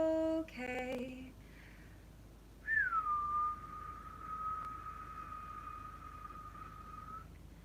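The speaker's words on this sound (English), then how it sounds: "When you clear the air with a whistle," A single person whistles, first a few short notes, then one long sustained tone that slides down and holds steady for several seconds, close and alone in a quiet room.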